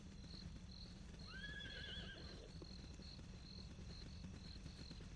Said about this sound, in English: I can hear a horse.